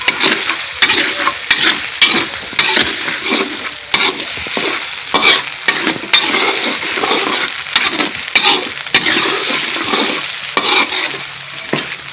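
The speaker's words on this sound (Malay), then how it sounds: "tumis dulu" Ingredients for green beef rendang sauté in a hot pan, with loud continuous sizzling and frying broken by repeated scrapes and knocks of a stirring utensil against the pan, close and without talk.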